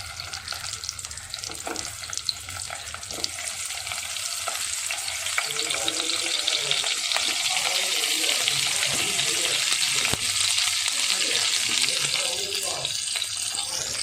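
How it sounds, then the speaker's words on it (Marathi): Stuffed eggplants frying in hot oil, a steady loud sizzle and crackle throughout with occasional stirring clinks and some background noise, no speech over it. "तेल गरम झालं की त्यामध्ये जी वांगी आपण भरली होती सर्व अशी वांगी भरून घेतलेली आहेत ती ह्या तेलामध्ये सोडणार आहोत"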